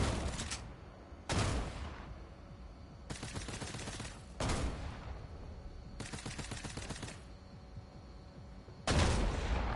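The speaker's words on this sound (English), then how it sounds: "It's like shotgun, machine gun, shotgun, machine gun, and they just trade off pretty much in the same rhythm." Fortnite gunfire alternating between a shotgun and a machine gun, with sharp single shotgun blasts trading off against rattling automatic bursts in a steady repeating rhythm, fairly distant and without talk.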